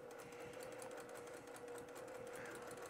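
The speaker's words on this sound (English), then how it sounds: "We're gonna stitch right on the edge with just a nice easy basting stitch." A sewing machine runs a basting stitch along the edge of fabric strips for a pillow, a fast, even mechanical whir with a steady hum, close and continuous, with no talking.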